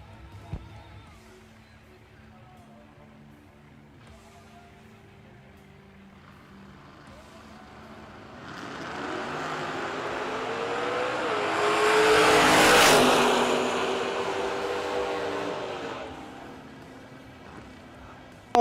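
Drag racing at the RAD Torque Systems Fall Fling pits a Mustang against a Lumina. Engine roar swells from far off into a loud, close, screaming pass, then fades away.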